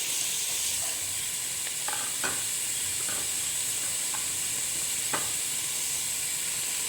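Green beans being stirred in a hot frying pan, a steady bright sizzle running throughout with a few scattered scrapes and clinks of the utensil against the pan, close up and without talking.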